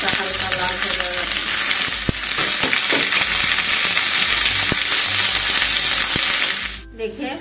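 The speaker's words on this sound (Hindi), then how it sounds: "इस तरह हम प्याज डालकर इसे थोड़ा सा लाल कर भून लेते हैं।" Onions frying in a pan for chhole, a steady close sizzle with scattered stirring clicks throughout, cutting off abruptly near the end.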